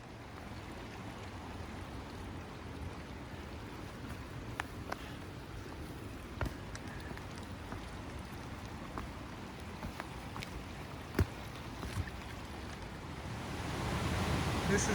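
Bomber Falls, a large cascade in Wyoming's Wind River Range, gives off a soft, steady rush of falling water. The wash is continuous and even, with a few faint knocks, and it swells slightly at the end.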